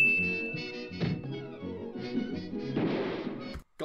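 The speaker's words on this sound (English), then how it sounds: "Gunshot sound effect, that isn't a gun being fired cliche." Cartoon gunshot sound effect in a Tom and Jerry episode: a sharp bang amid a busy orchestral score, with a loud crash near the end.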